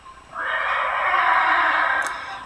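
A horse in the video game Alexandra Ledermann 4 gives a single whinny, bright and close, lasting about two seconds.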